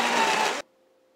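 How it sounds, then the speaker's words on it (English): A Vitamix high-speed blender whirs loudly through a green smoothie with a dense, steady roar, then cuts off abruptly after about half a second, leaving only a faint residual hum. "I have a very high-speed blender, my Vitamix."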